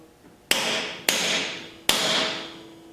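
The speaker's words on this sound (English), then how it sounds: "you just give it a couple gentle taps and it starts rolling the head right over" A hammer strikes a rivet set on a chassis rivet three times with a gap after each blow. The taps are sharp, metallic and fairly close, and each one rings briefly before fading.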